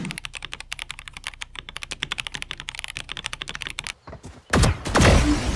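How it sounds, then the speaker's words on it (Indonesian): Rapid, steady clacking of keystrokes on a mechanical keyboard, close and fairly loud with no voices, before a sudden burst of louder noise near the end. "secara typing feel juga udah bisa menyerupai mechanical keyboard pre-built pada umumnya gitu"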